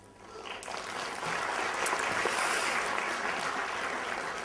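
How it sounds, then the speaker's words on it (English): A large conference keynote audience breaks into applause that swells after the first second and then holds as a broad, dense wash of clapping. "give a big applause to Microsoft student partners who are doing this community booth this year"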